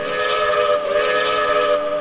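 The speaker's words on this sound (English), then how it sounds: "The whistle sound, the sound file is not bad. It's just a very different whistle." Steam whistle of an N&W 4-8-0 Mollie locomotive in the Trainz 2019 simulator, a loud steady multi-tone chime held continuously with a slight dip midway.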